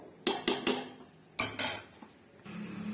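Metal utensil clinks and scrapes against a pot in a few sharp bursts, close up, while stirring a cashew gravy, followed by a low bubbling simmer.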